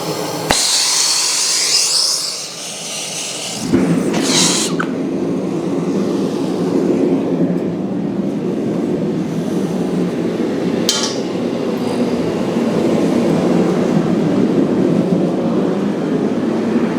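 A gas ribbon burner forge with its regulator turned up roars in a steady, dense broadband rush that settles in after a few seconds of quieter hiss and clatter, close and continuous to the end.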